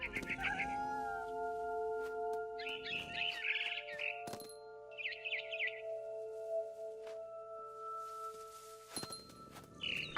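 Game audio from What Remains of Edith Finch: a cat meows and caterwauls in several short bursts, with bright chirping bird calls and sustained musical tones around them, moderately quiet and without talk.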